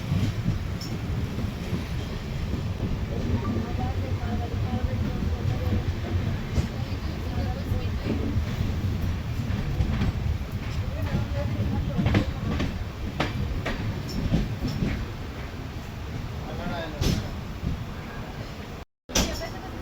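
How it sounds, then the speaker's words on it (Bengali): The Swarnarekha Express rolls along the rails after pulling out of a platform, a steady rumble with clanking wagon sounds and sharp clicks throughout. "ট্রেন ছাড়লো আনাড়ার 1 নম্বর প্ল্যাটফর্ম থেকে"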